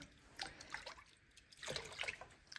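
Soap being poured into a bucket of cold water for washing an outdoor hat, heard as soft, faint splashing and trickling with a few small drips, close by and without talk.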